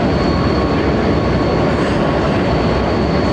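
Steady, loud rumbling road and engine noise from inside a moving metrobus, a continuous low roar with a faint high whine, no talking.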